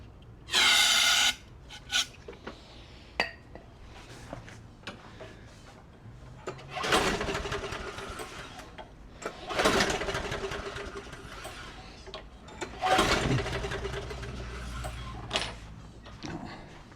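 A lawn mower engine primed with brake cleaner and cranked over, giving several short pull-start attempts with brief sputtering turns that fail to catch, close by, with quiet gaps between tries.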